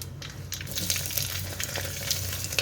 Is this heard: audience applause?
no